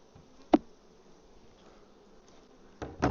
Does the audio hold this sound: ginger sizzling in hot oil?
no